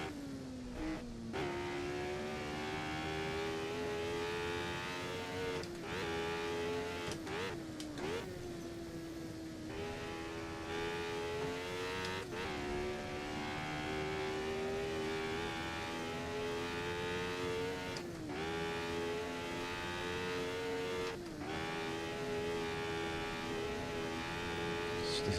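Formula 1 race car engine driving at Goodwood, a loud sustained whine that climbs in pitch and drops abruptly at repeated gear shifts, heard from on board with no talking.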